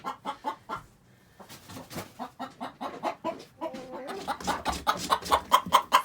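Several chickens cluck close by in quick, rhythmic bursts while huddled in a corner, the soft clucks growing busier and more overlapping toward the end.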